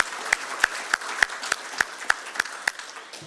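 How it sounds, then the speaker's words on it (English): Audience applause at a business community annual meeting, heard as about ten sharp, evenly spaced claps standing out over a steady wash of crowd clapping, moderately loud and with no talking. "Give yourselves a round of applause"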